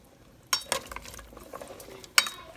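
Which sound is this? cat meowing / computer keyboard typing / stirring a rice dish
stirring a rice dish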